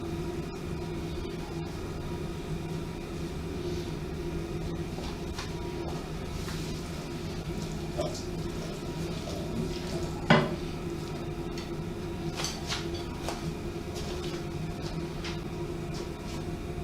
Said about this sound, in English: Now we're going to add our mince back into our pan.